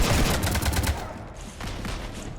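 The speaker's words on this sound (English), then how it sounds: "You want to stop shooting up my ship?" Gunfire in a Mass Effect 3 cutscene: a loud, dense burst of rapid shots for about a second, then quieter scattered fire continuing in the background.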